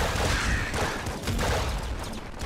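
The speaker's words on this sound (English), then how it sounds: "I should probably stop shooting that." Continuous rapid gunfire from the top-down shooter Nuclear Throne, a dense, steady stream of game shots filling the whole stretch at even loudness, with no talking over it.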